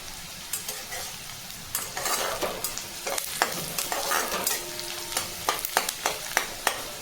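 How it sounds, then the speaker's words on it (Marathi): Chopped onion frying in a pan for pithla gives a steady sizzle, punctuated by frequent crisp scrapes and taps of a spoon stirring and turning it, close and moderately loud. "आपला कांदा आपण मस्त लाल गुलाबी रंगावर फ्राय करून घेऊया."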